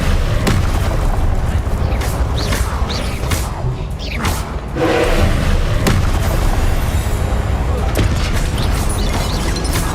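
An Incendio fire spell is cast in Hogwarts Legacy, producing loud, dense booming blasts and crackling bursts that roll continuously through the scene without pause.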